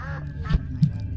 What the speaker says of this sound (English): Did you hear that duck sound?